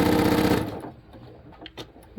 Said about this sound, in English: slide it over to my sewing machine and stitch away.